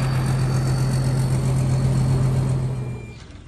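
A tow truck pulls into a flooded rice paddy at harvest, its engine running with a steady low rumble that fades slightly toward the end, heard nearby without talk.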